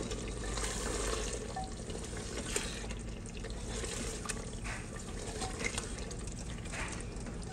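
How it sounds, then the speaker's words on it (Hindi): Taro roots dropped into a pot of meat already browned in released oil and water, giving a steady close sizzle and bubbling hiss with small splashes and crackles throughout. "अब हम इसमें अरबियां डाल देते हैं।"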